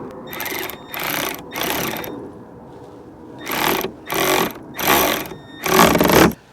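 A 7/16 wrench tightens a bolt on a truck bracket, on a 2020-2021 Ford F250-F350 Super Duty Tremor: seven bursts of rapid ratcheting clicks, grouped three then four with a short pause between, loud and close.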